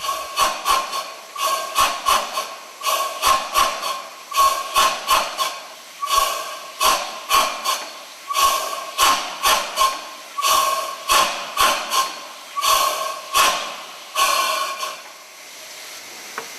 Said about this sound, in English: The pump being used for this purpose is itself an historic item.